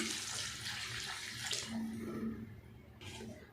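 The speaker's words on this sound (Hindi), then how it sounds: "अब हम इसमें ऐड करेंगे 2 गिलास पानी।" Water pours in a continuous, moderately quiet stream into a pot of beef karahi, two glasses added while the meat cooks, with no voices over it.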